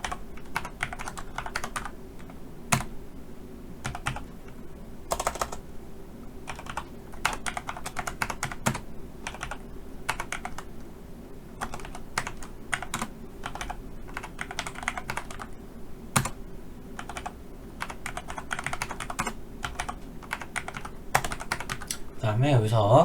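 Typing on a computer keyboard while filling in an Excel spreadsheet, a steady stream of close, crisp key clicks in uneven bursts with brief pauses, heard alone without talk.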